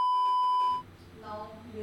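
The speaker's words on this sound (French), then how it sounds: "je vais biper le nom" A steady electronic censor bleep tone holds for nearly a second, cutting over speech in a podcast-style conversation, then voices continue talking afterward.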